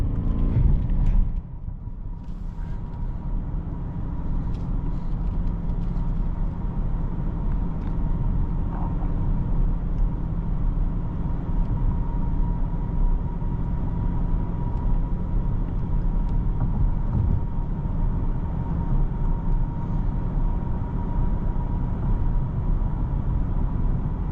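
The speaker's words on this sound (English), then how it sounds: "this car just like glides along the road so effortlessly" A 2024 BMW 760i xDrive sedan cruises on the road, its cabin filled with a steady, smooth low rumble of engine and tyre noise that holds even and continuous throughout, with no one talking.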